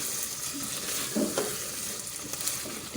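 Minced keema and inch-sized potato cubes frying in a pan for keema with capsicum, a steady close sizzle broken by a few scraping stirs of a spatula, no voices.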